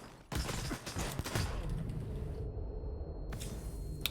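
An AR416 rifle's grenade launcher fires in STALKER 2, a dense burst of loud shots and mechanical clanks in the first seconds, then a sudden drop to quiet and a short final rattle.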